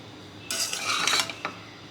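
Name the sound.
mixing fried rice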